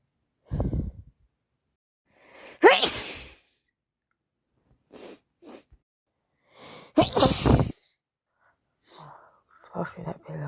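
Someone suffering from hay fever sneezes hard twice, loud and close, with gasping intakes and sniffles between them and some quiet breathy noises at the end.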